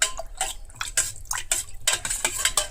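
A spoon clinks and scrapes against a vessel while buttermilk mixed with asafoetida is stirred for plants, quick repeated metallic taps and swirls, close and clear with no talking.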